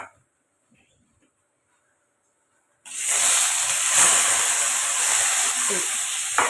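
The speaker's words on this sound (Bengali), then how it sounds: "আমার কড়াই গরম হয়ে গেছে আমি কিন্তু এই সবজিগুলো দিয়ে দেবো" Vegetables dropped into hot mustard oil in a wok, silence giving way to a sudden loud, dense sizzling hiss that holds steady and close for several seconds.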